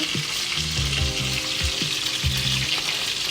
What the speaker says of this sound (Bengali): এবার পরের মাছগুলো ভেজে নেব